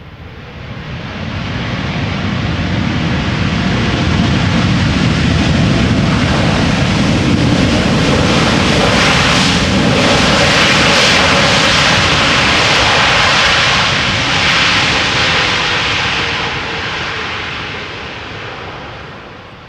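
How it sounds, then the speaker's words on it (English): Boeing 787 Dreamliner, eight years old and first flown in October 2014, its jet engines roaring at Amsterdam Schiphol Airport. The loud, broad rush builds, holds steady for several seconds, then fades as the aircraft passes. "this is, by the way, an 8-year-old Dreamliner that had its first flight in October 2014"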